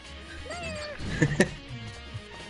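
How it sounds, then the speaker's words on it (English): House cats named Houdini and Oreo meow, with one short rising-and-falling meow near the start, soft and close, followed by faint rustles and small knocks. "They're all just meowing."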